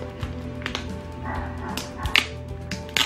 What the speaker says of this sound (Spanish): Perdonen si mi perro está ladrando.